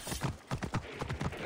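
Horse hooves clip-clopping at a steady rhythm as a rider travels through Assassin's Creed Origins, with even, close footfalls repeating about every quarter second and no talk over them.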